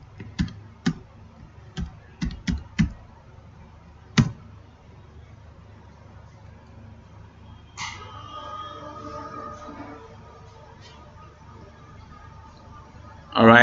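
Scattered keystrokes on a computer keyboard while setting up an email account, a handful of separate clicks in the first few seconds followed by quieter background sound.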